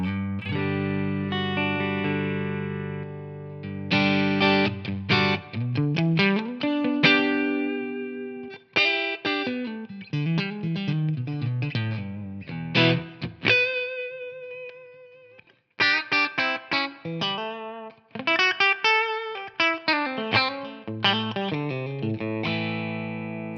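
A distorted electric guitar with a humbucker pickup, through a blended amp capture, plays sustained chords and quick melodic runs, thick and saturated with effects, loud and continuous with a few brief pauses.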